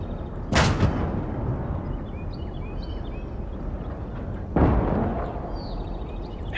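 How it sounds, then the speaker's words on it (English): Two heavy explosions in a WW2 battle in the Gates of Hell video game as a tank is destroyed, a sharp blast near the start and another a few seconds later, each rolling out over a constant low battlefield rumble. "Oh, I took that tank out right away."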